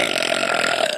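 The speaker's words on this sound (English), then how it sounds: "that was the obligatory burp of the day" A man lets out a single loud, rough burp lasting about a second, close to the microphone, with no talk over it.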